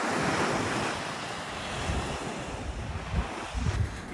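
Ocean waves wash steadily onto a beach in Pondicherry, a loud continuous roar of surf mixed with gusty wind buffeting the microphone, with no voices.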